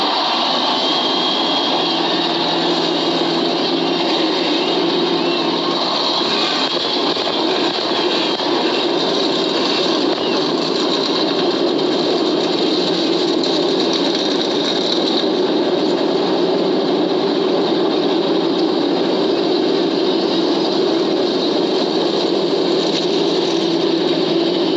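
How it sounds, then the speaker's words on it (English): A field of NASCAR stock cars at Daytona International Speedway for the 2005 Pepsi 400 runs their engines in a continuous, dense, loud roar and drone that holds steady throughout. "gentlemen, start your engines."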